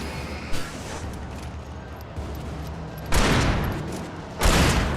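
Shotgun fire from a gunfight in the video game Alan Wake: a couple of loud, broad blasts stand out over a steady rumbling background, with no talking.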